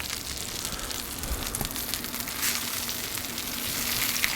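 A bone-in ribeye steak sears on a soapstone slab in a Kamado Joe grill, a loud continuous hiss and crackle of fat close up, swelling slightly toward the end.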